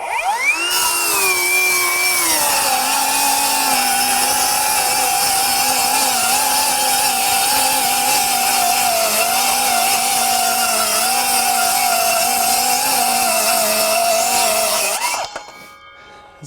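A Metabo HPT 18V MultiVolt 7-1/4-inch cordless circular saw spinning at 3,800 RPM cuts through wood in one long, loud, steady whine that drops slightly in pitch as it bogs under load, then winds down abruptly at the end.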